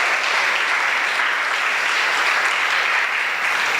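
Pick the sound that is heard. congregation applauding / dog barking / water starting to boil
congregation applauding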